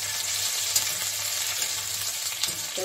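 Chopped ginger and cinnamon sizzle in hot oil in a pan, a steady loud hiss with faint stirring scrapes, close and continuous, with no voices.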